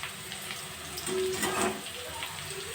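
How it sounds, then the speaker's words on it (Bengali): Hot water poured from a small bowl into frying ash gourd pieces in a pan, a close splashing pour that rises over a hissing sizzle for about a second, then settles back to steady frying. "গরম জল দিয়ে দিলাম ছোটো বাটির এক বাটি গরম জল দিয়ে দিলাম"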